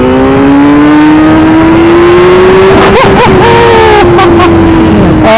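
Suzuki GSX-R1000R sport bike engine revving loudly and steadily climbing in pitch as the front lifts for a clutch-up wheelie, with a few sharp throttle blips near the end, close and continuous.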